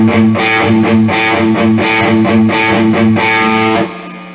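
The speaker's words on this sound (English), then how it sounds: "if I put a little more distortion on, a little more overdrive, you can hear a bigger difference" Distorted electric guitar with overdrive playing a repeated chugging 16th-note riff, loud and close, ending as the last chord is cut off.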